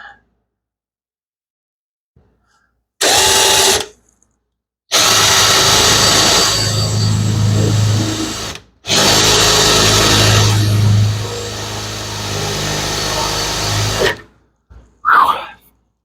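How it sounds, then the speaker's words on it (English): Cordless power drill boring through race car parts, three separate runs of steady high-pitched whirring, loud and close, with short pauses between them and no talk. "I think I smoked my drill bit."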